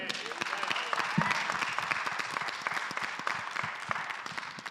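An audience in a church applauds a panel, with dense, sustained clapping across the whole stretch at a steady, fairly loud level, with no voices rising above it.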